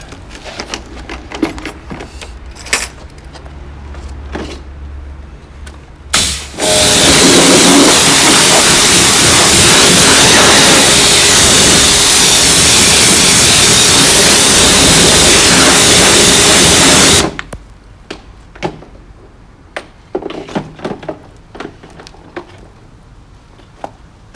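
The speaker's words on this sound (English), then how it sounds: "just give them a quick rinse with the pressure washer" A loud, steady hiss of a pressure washer rinsing a car runs for about ten seconds, preceded and followed by quieter scattered clanks and handling noises.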